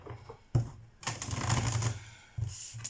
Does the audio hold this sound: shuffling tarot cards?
yes